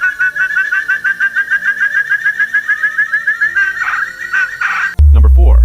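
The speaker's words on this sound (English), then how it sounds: "Jose's Partridge, a ghost in the mist." Jose's Partridge, a forest floor bird of Borneo, gives a long series of rapid whistled notes in a steady trill that fades into rougher calls, clear and fairly close, ending in a loud thump.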